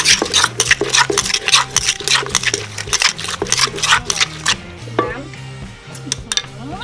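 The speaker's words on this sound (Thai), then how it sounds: "ขุดมะม่วงลงไปเลยค่ะ" Mango is shredded for a spicy mango salad in a rapid, rhythmic series of sharp cutting and scraping strokes, loud and close, which stop abruptly partway through, leaving quieter handling sounds.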